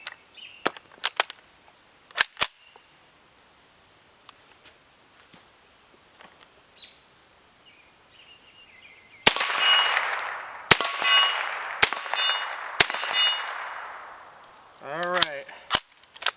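Shots of .22 hollow point and lead solid rounds hit a CrossFit steel plate, each sharp crack followed by a bright metallic clang, in scattered single shots and a quick run of several, with quiet pauses between.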